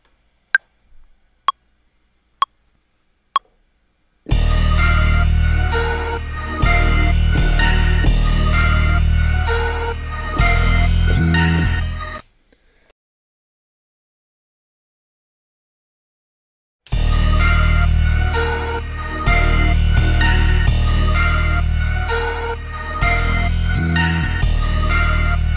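Four sharp metronome-like count-in ticks, then a dense, punchy trap synth line played with glide and the compressor muted. It runs for about eight seconds, stops into silence, then starts again, loud and close.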